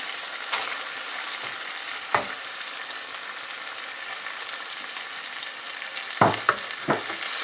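Chicken and chana dal being fried in a pan, a soft steady sizzle broken by a few sharp scraping stirs of a utensil against the pan, close by with no talking.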